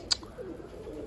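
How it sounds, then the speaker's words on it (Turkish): Domestic dönek (tumbler) pigeons give a brief sharp call near the start, followed by soft, low cooing that murmurs faintly through the rest of the moment. "Bakın Utku'nun kuşları görüyor musunuz benim burada?"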